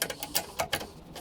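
A ratchet wrench tightens the hold-down on an AGM battery in a Toyota Tacoma, producing a rapid series of close, crisp clicks in an uneven rhythm over about a second.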